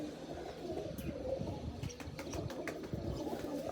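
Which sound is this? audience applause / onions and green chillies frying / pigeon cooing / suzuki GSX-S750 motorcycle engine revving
pigeon cooing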